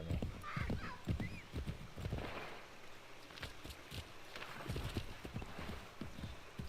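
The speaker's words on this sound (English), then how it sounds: "Come on, horse." A horse in the Assassin's Creed III video game gallops with a rapid, rhythmic clip-clop of hooves, close and steady, with a faint whinny early on.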